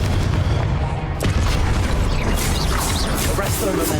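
A Confringo fire-spell explosion in Hogwarts Legacy goes off as a loud, booming blast, followed by continuous crackling, rumbling debris noise that stays heavy throughout.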